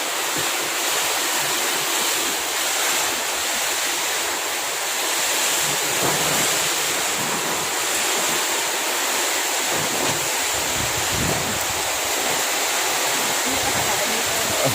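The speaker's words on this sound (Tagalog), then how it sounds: "Grabe, ang hangin oh." Strong typhoon wind roars steadily against the microphone, a constant broadband rush with faint buffeting and no clear voices.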